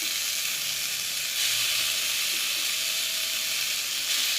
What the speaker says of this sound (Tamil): தக்காளி சேர்த்து தக்காளி நல்லா வதங்குற வரைக்கும் நம்ம லைட்டாக கிளறி விடணும்